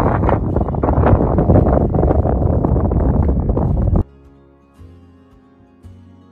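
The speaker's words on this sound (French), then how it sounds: "Et on va rien entendre parce qu'il y a trop de vent." Strong wind buffeting the microphone on the Isle of Skye, a loud continuous rumbling roar for about four seconds that then cuts off abruptly into quiet background.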